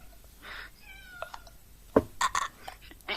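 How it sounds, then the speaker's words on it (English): A house cat meows indoors, a few short separate cries, fairly close but soft, with faint clicks and small bumps around them against a quiet room. "Be quiet, cat."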